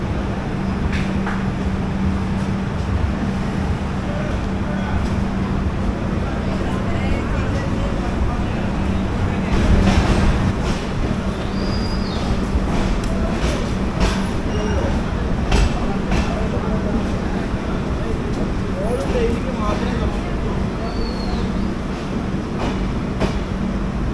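The 22653 Nizamuddin superfast express train rolls along after departing Kannur, heard from inside as a loud, steady rumble with wheel clatter and occasional knocks throughout.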